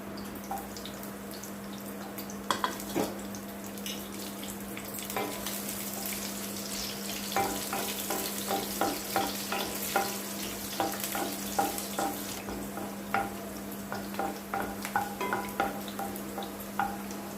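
Green chillies fry in hot oil in a kadai, giving a steady, close sizzle with scattered crackles and the clicks of a spoon stirring, all over a constant low hum.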